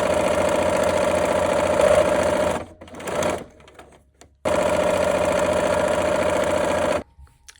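Sewing machine stitching quilt rows of a fancy nine-patch together, loud steady whirring in two long runs separated by a pause with some handling noise, then halting near the end.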